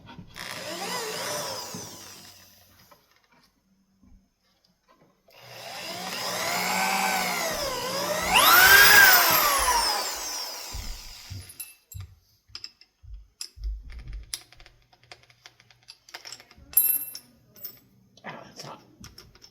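A power drill bores into the fabric of a busted couch, a loud whining roar that bends in pitch as it strains, then stops, followed by scattered clicks and handling noises.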